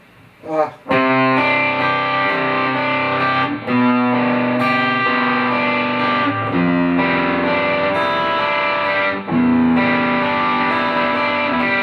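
Distorted electric guitar plays the pre-chorus of a song, loud sustained chords with effects and reverb that change every few seconds, with a brief pause near the start.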